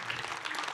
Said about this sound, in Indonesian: Masya Allah tepuk tangannya dong.